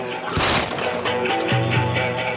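A loud burst of gunfire erupts amid a dense, noisy scene with music-like tones underneath, the shots blending into a sustained clamor.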